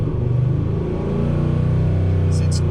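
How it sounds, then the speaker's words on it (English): A cammed Chevrolet Silverado V8 with a suspected blown engine rumbles loud and close at idle, its choppy lope swelling slightly as it is given a bit of throttle, with a short faint sound near the end. "let me give it a little bit of RPM too"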